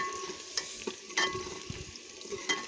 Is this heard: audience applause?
no